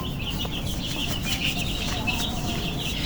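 Young tiger chickens, a week old, cluck and chirp at night, with steady soft calls close by over a constant background hum.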